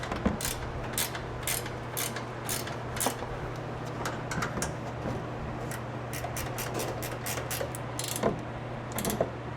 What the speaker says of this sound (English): now we're going to tighten it down using a 15 millimeter, and the torque's going to be 30 foot-pounds.